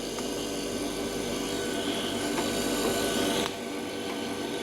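A Sawafuji refrigeration compressor, shown in cutaway, runs with a steady low hum and faint mechanical whir, then drops slightly in level near the end.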